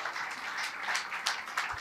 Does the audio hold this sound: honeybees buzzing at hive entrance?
no